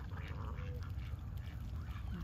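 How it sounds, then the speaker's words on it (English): Ducks feeding on fish food at close range, quacking softly and splashing through a steady wash of outdoor background noise. "I see the ducks taking a bite at some of the fish food."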